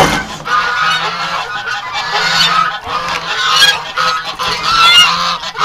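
Geese honk loudly and continuously close by, a dense overlapping flock calling in rapid bursts with no pauses, in a snowy winter farmyard.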